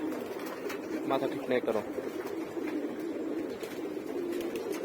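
Many loft pigeons, freshly released all together, coo and squabble in a dense, continuous chorus, while someone talks briefly over them partway through.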